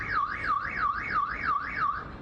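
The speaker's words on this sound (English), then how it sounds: "Not only does this robot sound an alarm, but it can also send messages." An NYPD crime-fighting patrol robot sounds its alarm, a rising and falling electronic siren that sweeps up and down about four times a second, steady and clear with no talk.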